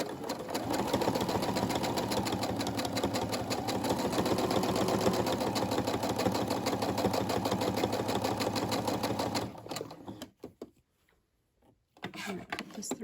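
A Brother SE600 sewing machine stitching fabric for a key fob, a steady fast mechanical needle clatter running continuously before stopping abruptly, followed by a few quiet handling sounds.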